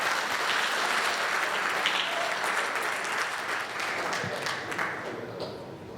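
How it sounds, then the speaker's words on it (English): Audience applause for Holly at a brand carnival and autumn event in Germany: a sustained, dense crowd clapping that stays steady for several seconds and tapers slightly toward the end, with no speech over it. "Come on, round of applause, Holly"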